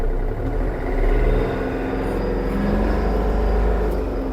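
A Yanmar RS-300 Hi Speed mini tractor pulling away in the lowest reduced gear, its engine a loud, close, steady low rumble that swells slightly as the clutch engages.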